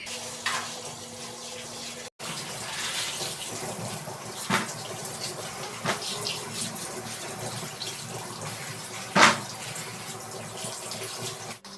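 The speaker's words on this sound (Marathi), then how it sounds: "हे जे भाज्या आहेत तर ते भाज्या पण इथे धुवून घ्यायचं आहे" Vegetables are washed under a running kitchen tap, a steady rush of water splashing into the sink for the whole stretch, with a few louder clatters and no talking.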